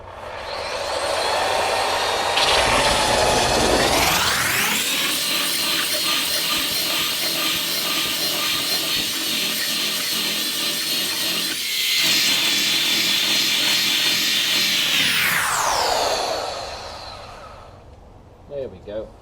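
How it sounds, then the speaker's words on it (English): A belt sander with 80-grit paper smooths the top of a boat transom, spinning up into a loud, steady whining roar that holds for about twelve seconds before winding down. "Got a belt sander. Looks like 80 grit in here. We'll just give this a dusting on top."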